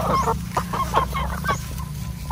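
Chickens on a Philippine poultry farm cluck in a rapid, busy run of short calls, several birds close by, with a steady low farmyard hum underneath.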